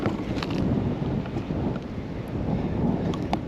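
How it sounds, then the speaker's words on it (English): Strong wind blowing outdoors on a shore while catfishing, a loud, continuous buffeting roar across the microphone with gusty surges and no speech. "It's getting really windy."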